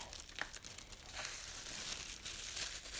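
Paper crinkles and tears softly as a tote bag sewing pattern piece is cut out by hand, quiet, close rustling with irregular crisp bursts and no talk.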